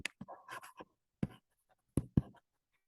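A pen writes on paper while a T account is drawn up, giving a few short, close scratchy strokes separated by brief pauses, quiet and without talk.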